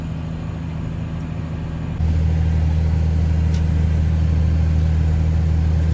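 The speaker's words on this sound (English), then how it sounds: "So the baler basically is spinning tines there, picks the straw up, pushes it into the baler" A tractor-driven baler baling barley straw in a dry, dusty field: a steady, loud engine drone and mechanical rumble that steps up sharply in intensity partway through and stays constant, with no talking.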